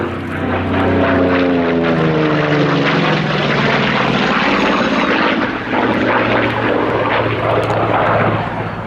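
A Corsair propeller fighter flying at the Yeovilton air show, its piston engine droning loudly and continuously with a falling, sweeping pitch as it passes overhead.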